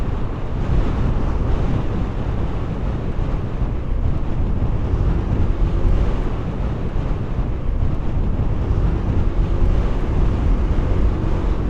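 Boat motor running at sea off the coast of Santa Ana, Cagayan, a steady loud drone blended with wind buffeting the microphone and surf wash, continuous throughout with no talk.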